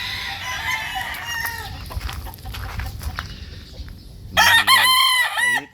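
A Sweater gamefowl rooster clucks and calls through the first seconds, then lets out a loud, clear crow near the end, with farmyard sounds in the background.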